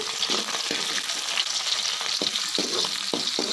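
Onion frying in a pan for cucumber sabji, a close, bright, continuous sizzle with a few sharp crackles and stirring scrapes.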